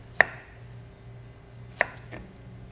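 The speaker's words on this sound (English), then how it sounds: "we cut the onion" An onion cut with a knife, two sharp, close chops spaced more than a second apart against a quiet background.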